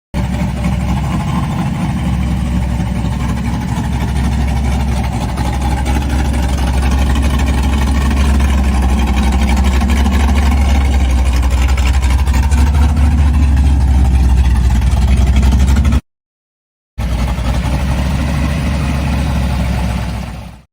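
A supercharged engine in a 1966 Chevrolet Nova Chevy II Pro Street car runs with a loud, steady low rumble, holding nearly constant before a brief cutout and a final stretch of the same drone.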